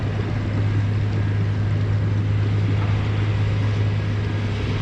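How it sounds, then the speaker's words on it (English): Fishing kayak trolling motor running at full speed: a steady, loud low hum with continuous water rush, unbroken throughout and close by. "So I've got this trolling motor maxed out right now,"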